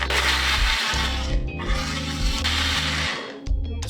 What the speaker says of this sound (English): Just combine all ingredients in blender jar. Blend it until a smooth texture.